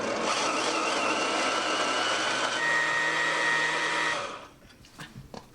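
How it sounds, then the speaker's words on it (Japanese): A kitchen blender grinding cooked soybeans simmered with dashi powder for takoyaki batter: a loud, steady motor whir for about four seconds, changing pitch partway through, then cutting off into quiet clinks. "これミキサーにこうやってかけるね"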